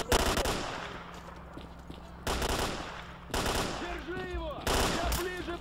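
Bursts of automatic gunfire in STALKER: Clear Sky, loud broadband volleys coming in several separate waves over a steady background rumble, with faint voice-like calls between the shots.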